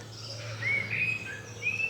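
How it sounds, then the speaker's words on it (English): A blackbird sings outdoors on a January day, with a few faint, clear whistled phrases over a low background hum. "There's a blackbird."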